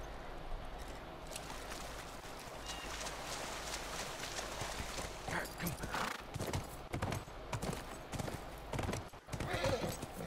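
A horse galloping in The Last of Us, rapid rhythmic hoofbeats pounding close by with occasional whinnies, fairly quiet overall, while a person talks over it.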